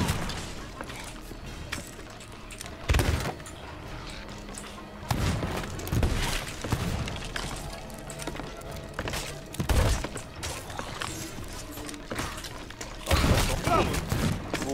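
Heavy booming cannon shots thud at intervals amid Sea of Thieves game sounds, with people talking over the action.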